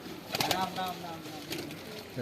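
Pet pigeons in a home loft, including Pakistani and Giribaz breeds, coo softly and repeatedly while feeding, with faint wing flutters, close by.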